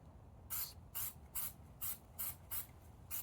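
Seven short, evenly spaced hisses from a spray can, each burst about a quarter second long with quiet gaps between, fairly faint.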